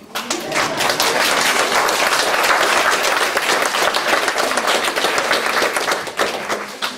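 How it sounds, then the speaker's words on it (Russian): An audience at a business talk applauds, a steady, loud, dense clapping that lasts several seconds and then tapers off. "Теперь похлопаем"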